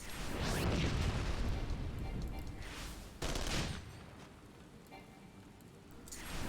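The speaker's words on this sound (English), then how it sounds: "How about this shooting?" Gunfire in the online role-playing game Final Fantasy XIV, a burst of rapid shots swelling into a loud rattling volley, then a sharp blast midway and quieter scattered firing fading out, with faint voices mixed in.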